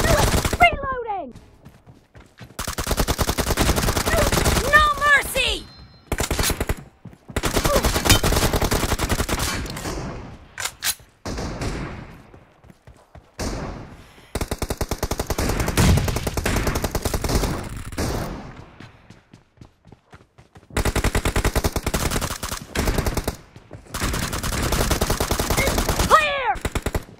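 Gunfire from the battle royale mobile game BGMI comes in loud, rapid automatic bursts separated by short pauses, some bursts running several seconds, with occasional in-game voice callouts.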